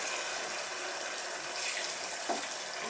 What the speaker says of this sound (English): And now I'm going to add some water.